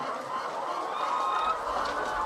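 Hens on a chicken farm, kept in long rows of cages, cluck in a continuous, fairly quiet chorus from a crowd of birds, with no talking.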